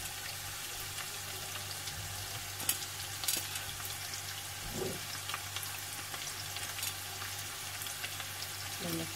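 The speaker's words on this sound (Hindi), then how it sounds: "मैंने प्याज ऐड कर दी इसके अंदर। फ्लेम जो है वो मीडियम पर है।" Onions frying in a pan over a medium flame for aloo katli, a constant soft sizzle with occasional light clinks and stirring scrapes, fairly quiet and close, no talk.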